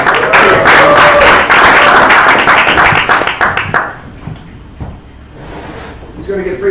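An audience welcoming Jose of City Wi-Fi, a guest from Mexico, claps in a dense burst of applause that fades after a few seconds, leaving quiet room sound with faint voices.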